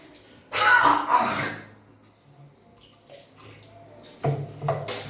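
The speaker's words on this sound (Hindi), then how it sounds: "और उस पर गर्म पानी डालते जाओ। वॉश बेसिन में करना है।" Forced coughing over a wash basin while hot water is poured in, with two loud bursts of throat-clearing coughs separated by a quieter stretch of faint splashing and water sounds.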